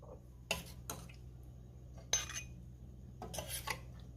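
A metal spoon scrapes and clinks against a pot and bowl while potato curry with coriander is served, a few separate faint clatters and scrapes spaced out in a quiet kitchen.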